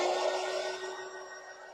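A hair dryer blows on painted craft boots, a close steady whirring hiss with a fixed tone that fades slightly toward the end.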